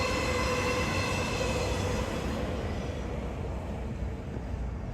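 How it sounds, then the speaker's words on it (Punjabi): A train in Perth, Australia rumbles past close by, a continuous heavy roar of wheels on rails with a faint high squeal, slowly easing off toward the end. "ਤੇ ਨਾਲ ਦੀ ਨਾਲ ਟ੍ਰੇਨ ਚੱਲ ਰਹੀ ਹੈ"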